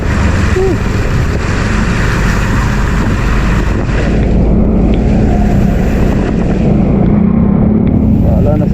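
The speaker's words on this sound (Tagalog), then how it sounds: "mababaw ng konti ang jet ski ganito oh" Steady roar of a jet ski engine over rushing shallow water and wind buffeting the microphone, loud and continuous, in Calumpit, Bulacan.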